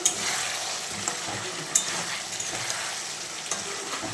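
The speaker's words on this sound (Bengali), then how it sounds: "এই যে দেখো আলু ফুলকপিটাকে আমি কষাচ্ছি" Potatoes and cauliflower sautéing in a pan for a vegetarian curry give a steady, close sizzle, broken now and then by sharp stirring clicks. No one speaks.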